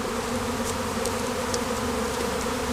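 Honeybees swarming around a tree, a dense steady buzzing hum from many insects spread out nearby, continuous and even with no voices.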